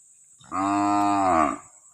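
A mother cow gives a single loud, drawn-out moo lasting about a second, close by and clear against an otherwise quiet background.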